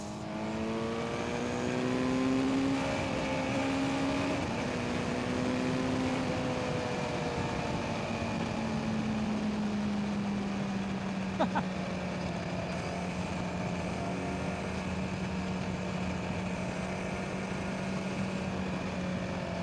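A Kawasaki Z900 inline-four motorcycle engine drones steadily and loudly throughout, its pitch rising and dipping slightly as the bike is ridden, with no voices.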